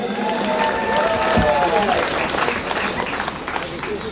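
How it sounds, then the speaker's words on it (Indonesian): Enthusiastic applause from a crowd at a priest's first Mass ceremony fills the clip, a steady clatter of clapping with a voice talking over it. "Pastor Aloysius Severlevun MSC, tentu beri tepuk tangan yang meriah"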